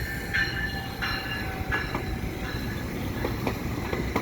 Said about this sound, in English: I think he's going to take the rest of his train back into the yard.